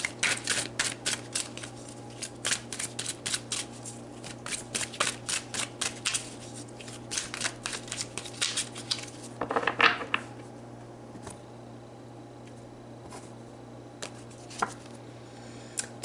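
Tarot cards are shuffled and pulled by hand, a run of rapid riffling flutters and soft slaps, close and fairly quiet over a low steady hum, with a brief rustle near the middle and a few light taps after.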